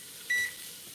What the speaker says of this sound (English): Let me walk over here and set a timer.